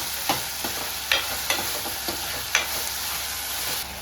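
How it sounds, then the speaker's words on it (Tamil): Onions and tomatoes with salt being sautéed in a pan: a soft sizzle underneath sharp, scattered clinks and scrapes of a spoon stirring, fairly quiet and close. "உப்பு போட்டு நம்ம வதக்கும் போது கொஞ்சம் ஃபாஸ்ட்டாகவே வதங்கிடும்"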